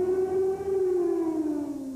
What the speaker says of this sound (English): The air raid sirens in Belgrade usually sound shortly after 8 p.m.